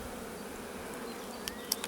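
Honey bees buzz in an opened hive colony, a dense, even drone close by, with a few faint clicks near the end and no voices.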